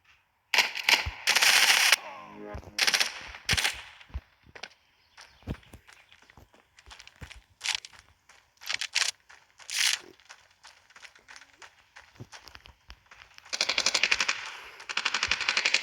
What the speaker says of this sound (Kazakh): Мен бір мылтықпен атып жатырмын ғой мен сендерге